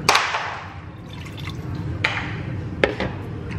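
Water poured into a cooking pot of rice and chicken broth for arroz caldo, a splashing, trickling pour with a couple of sharper drips, close and moderately loud, with no talk.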